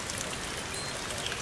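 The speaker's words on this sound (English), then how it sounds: "I've been running water just like this" Water overflowing from a livestock water trough on a Texas farm, a steady close splashing pour and trickle with no voices.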